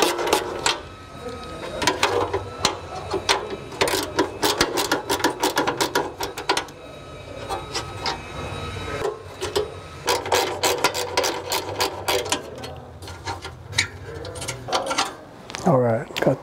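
Wrench or ratchet work breaking loose and spinning off 14 mm exhaust nuts under a 2010 Subaru Forester, during catalytic converter removal: a string of close, sharp metallic clicks and clatters in irregular bursts, with some talk in the background.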